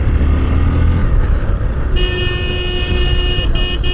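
Heavy road traffic on the route from Rishikesh to Kedarnath rumbles loud and close, and a sustained car horn sounds partway through, breaking off in short gaps near the end.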